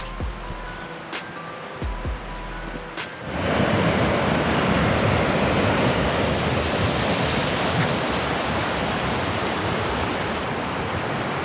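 Rushing high water at a small creek crossing on a hiking trail, a loud, steady broadband roar that bursts in after a few seconds of quieter outdoor noise and holds close and constant to the end, no talk.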